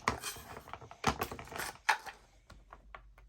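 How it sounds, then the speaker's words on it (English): Wax crayons are handled and broken apart at close range, a series of crisp snaps and small clicking, rustling sounds in irregular bursts, with no talking. "I'm just going to take the paper off of these and then break them up."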